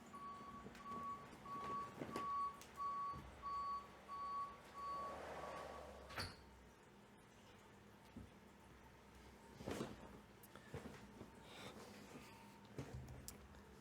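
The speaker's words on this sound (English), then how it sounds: "I'm going to go shut my window because there's a garbage truck." A garbage truck's reversing alarm beeps in a steady rhythm, faint and distant, followed by scattered clunks and mechanical noises.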